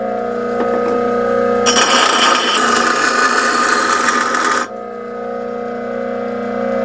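A bench grinder grinds metal for a woodturning tool rest, a harsh, loud grinding burst of about three seconds over a steady motor hum that keeps running after the contact stops.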